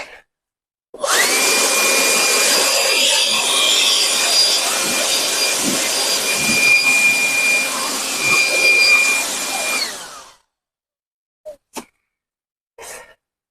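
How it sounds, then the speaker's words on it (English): Compressed air roars steadily for about nine seconds, close and loud, blowing hay dust out of an IBEX TX31 net wrap baler, then cuts off and is followed by a few brief faint knocks. "I'm going to blow the dust out real quick."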